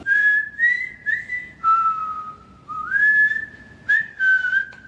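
A person whistles in imitation of whistles heard at a campsite: a series of clear, loud, sustained tones that slide up and down in short phrases with brief pauses between them, with no other sound around.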